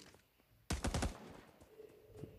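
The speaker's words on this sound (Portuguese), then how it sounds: "Opa, o maluco atirando aqui." Gunfire in the video game Cyber Hunter: one burst of rapid automatic shots breaks a quiet moment, loud and close, then fades into low game ambience.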